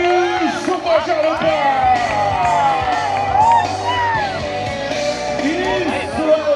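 Rodeo arena crowd yelling, whooping and cheering for a bull rider in the final at Quintana, rising and falling in waves under a loud announcer's voice.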